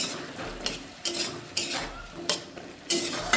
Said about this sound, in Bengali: আলুগুলোকে দিয়ে ভালো করে কষাতে থাকবো